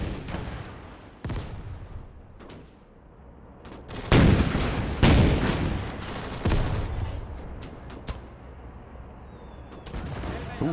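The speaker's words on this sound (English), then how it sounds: "Then again, it is being hit by mortars." Mortar shells pound the trenches in the Gates of Hell war game: heavy blasts and scattered gunfire, several loud impacts clustered mid-way, rumbling close over a constant battlefield din.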